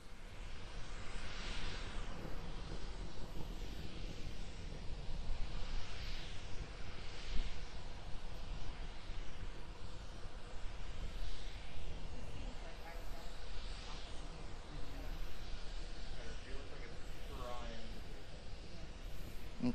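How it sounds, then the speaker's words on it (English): A SpaceX Starship SN10 prototype climbing on a single Raptor engine, heard as a steady, distant broadband roar with wind buffeting, continuous throughout with a commentator talking over it. "We're still being powered by the single Raptor engine."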